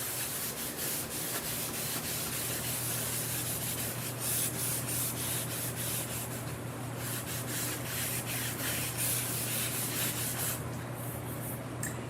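Wax is rubbed onto a wooden surface against the grain, a steady close-up scrubbing and swishing of a cloth or pad in continuous back-and-forth strokes over a low constant hum.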